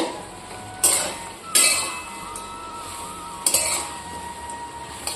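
Fried potatoes being stirred into chilli potato masala in a pan, three sharp metallic scrapes and clinks of a spoon against the pan, spaced apart over a faint background hum.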